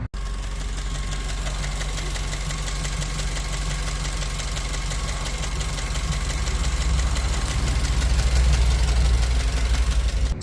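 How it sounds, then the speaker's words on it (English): A 2004–2009 Mazda 3 engine idles with a rapid, even ticking like lifter tick, caused by an intake manifold fault; the mechanical clatter is close and steady, swelling slightly louder toward the end, with no talk. "it does sound like horrible lifter tick or something along the lines of that"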